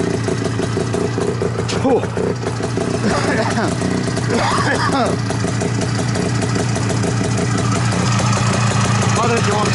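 A motorcycle engine idles steadily after a cold start in minus 20 degree weather, a continuous mid-pitched running drone heard close, with a person speaking briefly over it.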